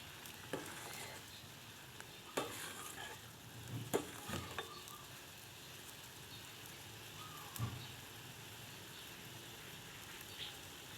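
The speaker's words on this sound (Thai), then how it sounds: "เคี่ยวให้น้ำข้นๆเลยนะคะ" Thick crab larb broth simmering in a pan, a faint steady bubbling hiss with a few soft clinks of a utensil, quiet and close.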